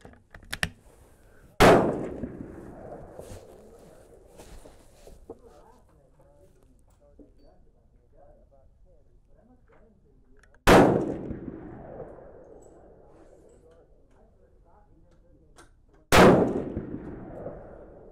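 Three loud, sharp rifle reports from a rebuilt Savage 10FP chambered in 6.5mm Creedmoor at a shooting range, spaced several seconds apart, each with a short decaying echo and quiet range ambience between shots.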